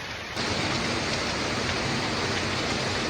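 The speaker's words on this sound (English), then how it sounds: "I found some waterfall!" The waterfall at the Falls of Clyde roars as a broad, continuous rush of falling water, loud and close, with no voices heard.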